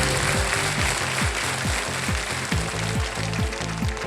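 A studio audience on a Hindi quiz show claps for a correct answer, producing loud sustained applause that fills the room over a rhythmic, regularly pulsing music bed.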